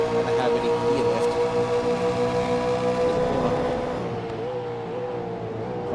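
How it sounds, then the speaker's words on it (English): V8 Supercar Gen3 race cars in a sim racing game roar loudly with sustained high-pitched engine notes, revving through gears as several cars run close together, with a slight drop in pitch near the end. "let's just listen in, see how these cars sound"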